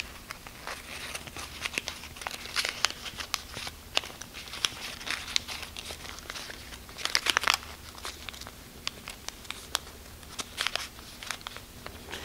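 Origami paper being folded by hand, a flap tucked into place, giving soft crinkling and crisp little crackles that come in irregular bursts, close and fairly quiet.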